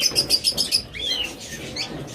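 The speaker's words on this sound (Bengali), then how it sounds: "এরপরে এখানে রয়েছে চমৎকার আরও একটা জোড়া সানকোনোর" A pair of sun conures calling close by, a rapid run of shrill repeated squawks followed by a wavering, rising call, loud and without talk.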